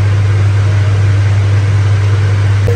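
A kitchen exhaust fan runs steadily and loudly close by while cooking, a constant droning hum with a strong low tone and broad airy noise, unbroken throughout.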